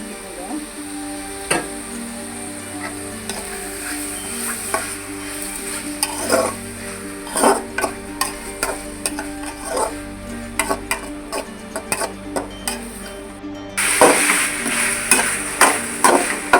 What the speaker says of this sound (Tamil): இந்த கறியில் வந்து சிக்கனில் வந்து எப்போவுமே அந்த நல்லா வதக்கணும்